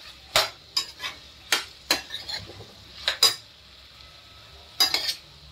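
A spoon scrapes and clinks against a pan while dry potato bhaji is stirred after salt is added. Around eight quiet, separate strokes sound close up at an uneven pace, with faint sizzling between them and no voices.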